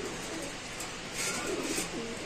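Pigeons coo softly at a pigeon market, a faint low murmur of calls layered in a busy, slightly noisy background.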